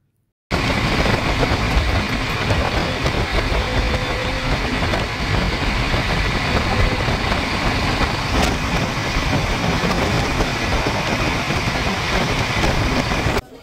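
A train runs toward Ghatsila station with a loud, continuous rumble and rattle of carriages heard from on board, holding steady from start to finish after a brief silent opening.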